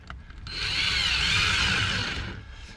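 A power drill with a Phillips bit drives a 2-inch screw into wood in one steady, close whir lasting about two seconds, starting after a brief pause and then winding down. No one speaks.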